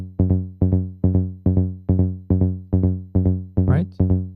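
Rolling bass pattern on a Korg Electribe 2 for a Goa trance track, a steady stream of paired synth bass hits repeating in a driving rhythm, loud and upfront, with a brief bright sweep near the end and no voices.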